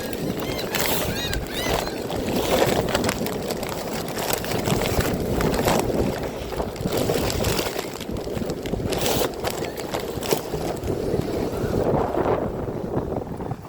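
Strong wind blowing hard outdoors, roaring and buffeting the microphone in a continuous loud rumble with gusty surges throughout, no talking over it.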